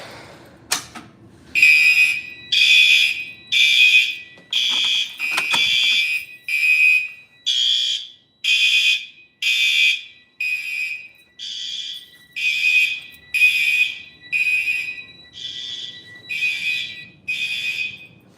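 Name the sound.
fire alarm sounding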